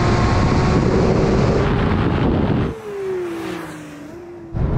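A Porsche 911 GT3 and Carrera in a drag race: loud engine and wind roar up close, then a high, falling engine whine as a car pulls away, with the roar rising again at the end.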